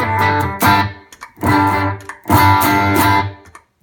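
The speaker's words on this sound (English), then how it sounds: "Here is the sound of the Tumnus." Electric guitar played through a Tumnus overdrive pedal set for light drive, sounding as three loud strummed chord bursts separated by short gaps, alone without talk.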